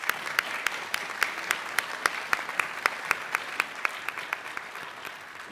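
A graduation ceremony audience applauds in a dense, steady wash of clapping, with a few sharp individual claps standing out near the microphone and rhythmically punctuating the crowd.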